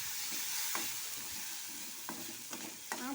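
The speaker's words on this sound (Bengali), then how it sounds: "নাড়াচাড়া করে নেব।" Spicy semolina frying in a pan is stirred with a few scraping strokes, short sizzling bursts spaced through a steady low frying hiss, close by with no talk.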